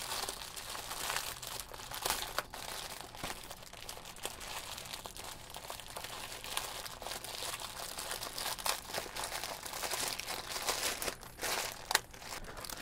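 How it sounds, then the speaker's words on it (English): A plastic bag crinkles steadily as its top is twisted closed, a faint, continuous rustle and crumple close by, with no talking. "I'm gonna twist the top a little bit just to get it nice and closed up"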